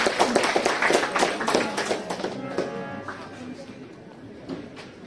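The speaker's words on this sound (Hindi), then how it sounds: "जोरदार ताली से स्वागत किया" An audience at a school talent hunt show claps loudly to welcome a Class 10 singer, dense applause that fades out over the final seconds.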